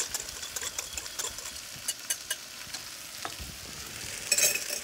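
A sauce with dissolving brown sugar is stirred in a hot pan, a soft steady sizzle under light, regular scrapes and taps of a utensil, fairly quiet and close, with no voices.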